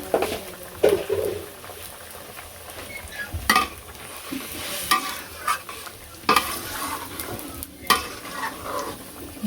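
Garam masala is stirred into a frying curry before the fish goes in, giving a steady sizzle under repeated scraping and clinking of a spoon against the pan, close by with no talk.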